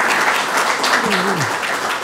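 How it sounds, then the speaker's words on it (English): An audience at an academic event applauds for a full two seconds, a dense continuous wash of clapping with a brief voice sliding through the middle. "So a special round of applause for Professor Wang"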